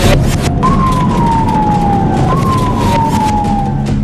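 Fire truck siren wailing in two long descending sweeps over a steady rumble of road traffic, loud and close, with no voices.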